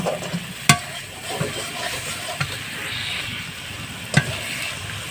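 Mustard paste is stirred into fish curry masala for bhola fish cooked without oil. Soft sizzling runs under irregular spoon scrapes against the pan, with two sharp clacks standing out close by.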